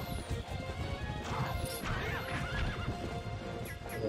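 A horse in the video game The Legend of Zelda: Twilight Princess whinnies and clip-clops through a dense, busy game soundscape with crashes, steady and fairly loud throughout without talk.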